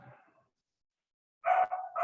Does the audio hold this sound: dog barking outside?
yes